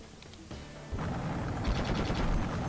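A war video game's anti-aircraft gun fires in the distance, a rapid run of muffled thumps and booms with a low rumble that builds over the second half. No speech is heard.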